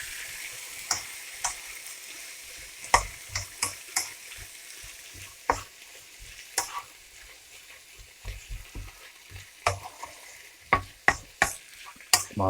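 Vegetables and salami sweating in coconut oil on a Silvercrest tabletop electric cooker, a soft, constant sizzle punctuated by irregular sharp taps and clicks of a utensil on the pan, without speech.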